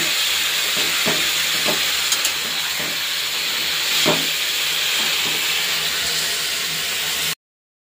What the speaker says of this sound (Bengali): একটু ভাজা করে নিই।